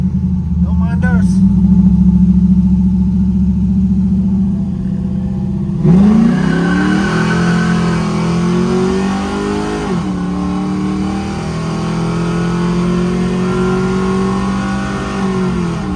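A 1968 Chevelle with a cammed 5.3-liter V8 accelerates hard, its loud engine climbing in pitch through a gear change and then pulling steadily. Brief voices come through near the start.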